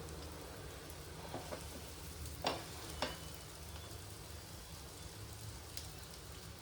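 Food frying in a pan gives off a steady, close sizzle and hiss, broken by a few sharp pops and crackles.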